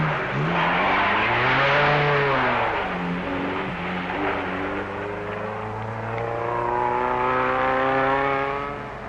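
Hillman cars on safari climb rough roads out of the Rift Valley, engines droning and rising in pitch as they labour uphill, loud and sustained throughout.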